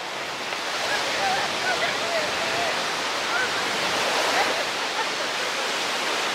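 Waves washing onto Ardmore Hollywood Beach on Chicago's lakefront, a continuous broad rush of surf with gentle swells in loudness, fairly close and steady, without any talk.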